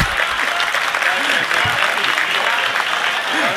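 Sustained applause from a seated audience at a Pakistani poetry mushaira, a dense steady clatter of many hands clapping throughout with a voice faintly under it.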